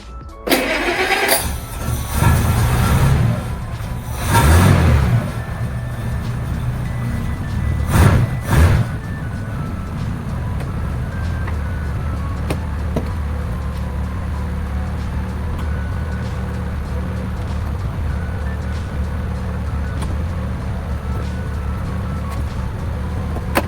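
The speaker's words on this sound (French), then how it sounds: "On va faire un petit peu chauffer et puis déplacer la voiture pour voir ce que ça donne." A cold Citroën Traction 15 Six engine starts with a few loud cranking bursts and revs, then settles into a steady low idle as the car warms up.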